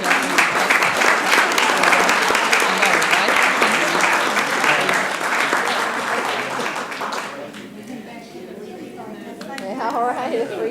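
A city council meeting audience gives a round of applause, loud dense clapping for about seven seconds that fades into murmured chatter and talking, then swells briefly again near the end.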